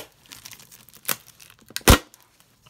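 Close crinkly rustling as the packaging of a large mug gift set is untied and unwrapped, with two sharp, loud tearing bursts standing out from the softer handling noise.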